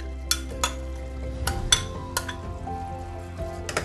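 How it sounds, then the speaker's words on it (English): Carrots tipped into a pan for chicken pies and stirred, with a run of sharp utensil clinks and scrapes against the pan over a low steady background, close and fairly clear. "And let's add the carrots."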